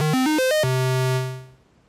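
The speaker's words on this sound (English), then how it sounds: "So now I'm going to add an arpeggiator from the sequencer just to make things a bit more interesting." Modular Eurorack synth runs a quick rising arpeggio of bright buzzy notes, then lands on a low sustained note that rings out and fades over about a second.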